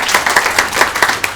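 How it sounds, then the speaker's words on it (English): An audience claps for a human rights commissioner at a Human Rights Day event held at a community college, a brief loud round of distinct, fairly rhythmic claps from a nearby crowd. "If you want to give him a round of applause."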